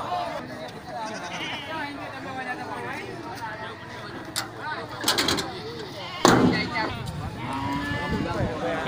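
Sheep and goats bleat at the busy Grogol livestock market in Jakarta, several calls rising over a dense crowd of talking traders, with a sharp loud knock or bang partway through.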